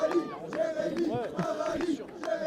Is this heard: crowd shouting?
yes